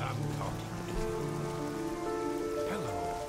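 Steady rain falls in the fantasy role-playing game Oblivion, a constant wash of patter heard alone with no talk over it.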